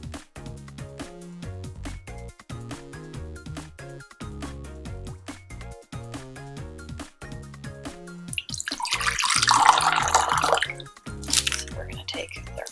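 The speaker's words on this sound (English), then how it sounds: "we're going to fill it with 1/3 cup of water" Water runs into a measuring cup for a gummy candy recipe, with a louder, splashy pour rising near the end, while background music with a steady beat plays throughout.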